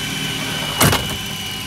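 A steady mechanical whine and rushing hum of a JT8D jet turbine engine being dry motored at about 10% RPM, turning slowly, with a brief louder thump partway through.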